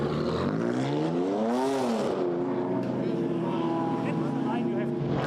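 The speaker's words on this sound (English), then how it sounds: "Away blasts the 71 BMW" A BMW GT4 race car blasts away from a pit stop at the Paul Ricard circuit, its engine climbing in pitch then holding a steady loud drone as it pulls away, with a commentator talking over it.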